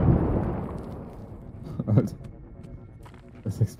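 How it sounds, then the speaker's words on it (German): Deep rumbling explosions in the war video game Six Days in Fallujah, one heavy blast fading at the start followed by a couple of duller booms further off, with voices talking over them. "Es explodiert einfach die ganze Zeit schon."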